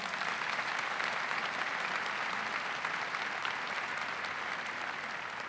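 A church congregation applauding during a Catholic Mass homily, a broad, even wash of many hands clapping that holds steady, slightly distant and moderately loud, with no voices over it.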